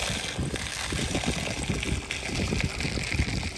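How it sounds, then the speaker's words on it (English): Water is slowly poured into a homemade plastic bottle aquarium, producing a close, steady splashing and gurgling flow that continues without pause. "So once you got some water, slowly pour it into the bottle aquarium."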